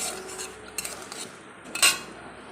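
Lentil dumplings (bori) fry in a pan and are stirred with a utensil, giving quiet scraping and clinks and a soft sizzle, with a sharper metallic scrape near the end and no talk.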